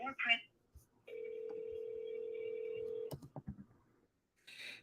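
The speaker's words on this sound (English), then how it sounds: "I'm dropping a voicemail." A telephone connecting to leave a voicemail: a steady tone holds for about two seconds, then a quick cluster of short dialing beeps follows, with a voice speaking briefly before and after.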